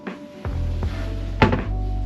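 In a hotel room, a drawer or cupboard is shut with a few soft thumps, followed by one louder, sharper knock, against a steady low room hum.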